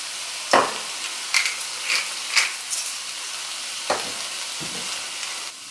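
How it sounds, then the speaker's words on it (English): Bell peppers sauté in a hot pan, a constant sizzle broken by several sharp scraping stirs of a utensil, close and fairly loud, with no speech. "we're gonna saute this for about another 3 minutes, just to let all the flavors go together and soften up the peppers a little bit"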